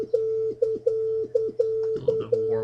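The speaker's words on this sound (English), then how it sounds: "But if you were to apply a low frequency oscillator, let's say to the cutoff," Software synthesizer tone with a low frequency oscillator sweeping the filter cutoff, giving a repeating warble that pulses about twice a second, steady and clear with no voices.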